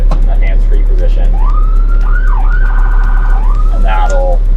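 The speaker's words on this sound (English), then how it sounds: "you can either rotate through the different sirens like this" Fire tender siren cycling through its tones: a wailing sweep rises, dips and climbs again before shifting to a rapid warbling yelp, loud and close over a steady engine hum, with brief clicks from switching.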